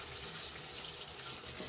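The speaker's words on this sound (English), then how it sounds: "I'm just kind of rinsing them off" Grapes being rinsed off under running water in a sink, a steady broadband wash of flowing tap water with low splashing, continuous and fairly quiet throughout.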